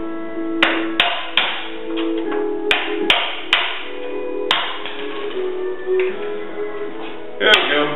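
A Phillips screwdriver taps sharply on a Cub Cadet 44-inch mower deck under restoration, giving about a dozen close, bright metallic knocks at an uneven rhythm against a faint background.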